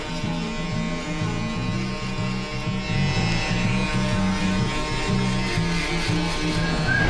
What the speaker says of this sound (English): going in with the Andis foil shaver just to knock out all that extra neck hair